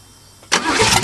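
An old Cheviac car engine cranks on a cold start, with a sudden loud, close churning starter sound beginning halfway through a short moment and continuing to the end.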